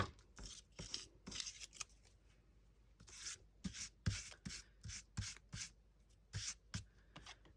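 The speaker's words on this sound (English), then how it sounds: "I'm just going to trim this a little bit right now." Paper or material is trimmed in short bursts of quiet snipping and rubbing, a string of separate faint cuts close by.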